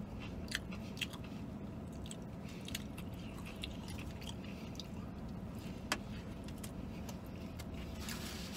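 Someone chews a spicy chicken sandwich with pickles close to the mic, steady soft crunching and squishing with a few sharper bites, over a low room hum and without talk.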